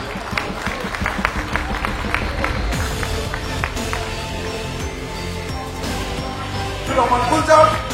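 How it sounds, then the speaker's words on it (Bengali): Audience clapping to welcome guests onto the stage at a National Film Day celebration at BFDC: scattered applause under a reverberant hall ambience, swelling louder near the end. "আপনারা করতালি দিয়ে তাকে স্বাগত জানান"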